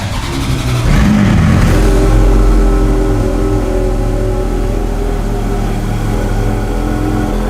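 A parked expensive car in Hong Kong with low mileage starts up and revs: a loud engine catch and rise in the first seconds, then a steady close-up idle hum with no talk.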